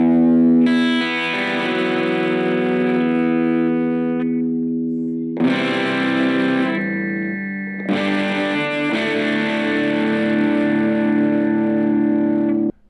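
Distorted electric guitar plays a riff, sustained chords ringing in three loud bursts separated by short gaps, close and without speech.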